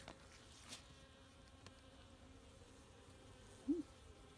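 Faint honeybee buzzing drifts through a quiet December background at a hive, with a brief louder buzz passing close near the end.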